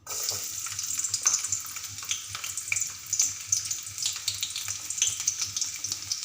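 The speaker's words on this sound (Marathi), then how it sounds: "तर आता आपलं तेल तापलेलं आहे त्यामध्ये मी कांदा सोडणार आहे" Onion drops into hot oil and fries with a bright, crackling sizzle close up, swelling in bursts with scattered pops and a faint low hum beneath, and no one speaking.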